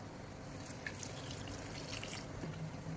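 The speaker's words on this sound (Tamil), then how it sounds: "இப்ப இது கூடவே கொஞ்சம் வந்து பால் ஊத்திக்கலாம்." Milk pours steadily over Oreo biscuits in a container while making a milkshake, a soft continuous liquid trickle close by with no talking.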